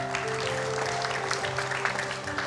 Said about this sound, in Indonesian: Boleh kita berikan tepuk tangan lebih meriah lagi Bapak Ibu?